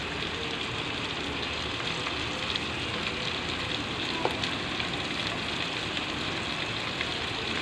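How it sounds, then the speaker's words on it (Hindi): Chicken and potato curry masala fries steadily in a pan, a soft continuous sizzle with faint crackles throughout and no talking. "तो अच्छे से भूनें।"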